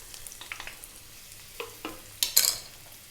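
Chopped onions and garlic hitting hot olive oil in a pan over medium heat, giving a soft sizzle with scattered stirring clicks that builds into a brighter, louder crackle toward the end.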